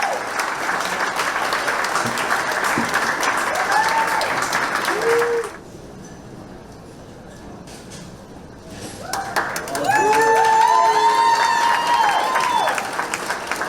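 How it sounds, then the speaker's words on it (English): Audience applause at a gala honoring a doctor, a dense crowd clapping that drops off briefly midway and then swells back loud, with voices speaking over it. "One more round of applause for Dr."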